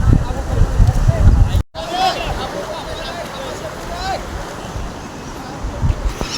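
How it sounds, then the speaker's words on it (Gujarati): Water of the Hiran river rushes steadily past a broken dam in Gir Somnath, a broad continuous roar with wind buffeting the microphone, briefly cut off near the start before resuming at an even level. "અમારા ગામની નદી છે ને નદીનો આજે ડેમ છે અહીંથી થોડું તૂટી ગયું છે"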